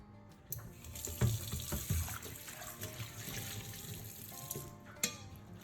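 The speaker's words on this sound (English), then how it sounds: "Rinse with warm water and dry the pan thoroughly." Warm tap water runs steadily while a nonstick pan is rinsed at a sink, a continuous close splashing and trickling stream with a few brief clatters and no talk.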